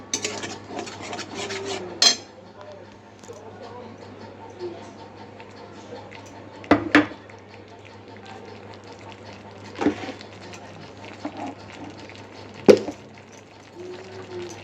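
Papaya curry with fennel is stirred in oil in a pan, producing a few distinct scraping strokes spaced seconds apart over a quiet, humming background.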